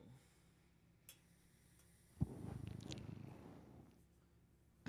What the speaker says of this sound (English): That cat is very excited.